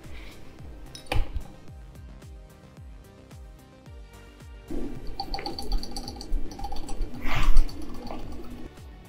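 A magnetic stir bar in a glass beaker holding 100 ml of raw water sample, with scattered light glassy clinks and faint rattles, one sharp clink early and a louder cluster of ringing knocks later.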